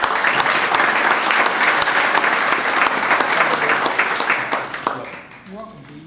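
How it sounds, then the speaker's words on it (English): A crowd at a high school football preview night gives loud, sustained applause and clapping for a football coach, with voices mixed in. The applause fades out near the end. "So let's hear it for Jason Wallach"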